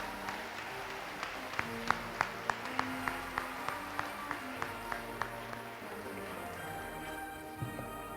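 Sparse, scattered handclaps from an audience at a school Teacher Appreciation Day ceremony, a steady run of distinct claps through the middle over a soft room murmur, thinning out toward the end.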